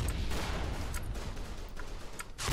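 Scattered gunfire in a war video game, a busy crackle of shots with a few sharper bursts near the start and end.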